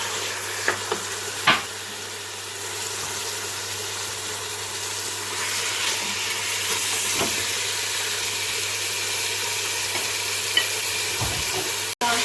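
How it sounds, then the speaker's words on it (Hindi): Beef for beef karahi sizzles and crackles steadily in a hot pan, with a constant frying hiss and a few clinks of a stirring utensil against the pan. "इसे हम डालकर अच्छी तरह से भून लेंगे।"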